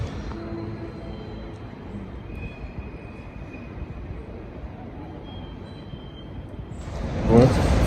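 A Paris metro train rumbles steadily with faint high wheel squeals, and near the end a louder screech and clatter swells as a train moves close by.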